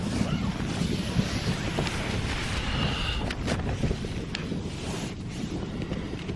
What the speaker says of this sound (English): look at the tent blowing